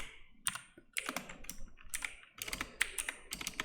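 Brisk typing on a new computer keyboard, close and crisp, with irregular bursts of key clicks and short pauses between them, no talking.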